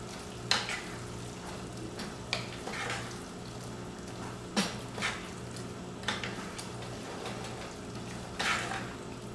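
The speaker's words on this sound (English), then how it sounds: "The pot, sorry, still bubbling." Soy sauce pasta simmers and bubbles in a pot with a soft steady sizzle, broken by occasional sharp clinks and scrapes of a utensil against the pot.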